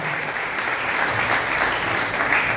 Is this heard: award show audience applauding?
yes